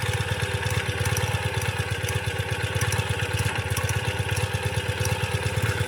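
A Ural cT motorcycle engine fitted with Keihin EFI runs on its first cold start, a steady, loud, slightly rough idle with fast even pulsing throughout and no talk.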